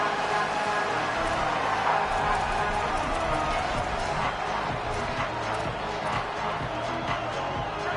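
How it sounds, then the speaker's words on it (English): A football video game fills with the steady roar of the Auburn stadium crowd, a dense continuous din of cheering and noise on third down throughout. "This Auburn crowd trying to conjure up a little magic here on 3rd down."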